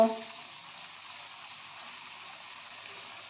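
Cabbage pakoras fry in hot oil in a wok, a soft steady sizzle that holds evenly throughout after a brief louder start.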